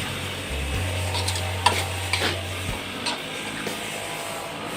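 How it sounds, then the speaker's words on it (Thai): Chicken stir-fries in a pot while a utensil scrapes and stirs, with a few sharp clinks over a low steady hum. "ใส่ ผัดกับไก่ครับ"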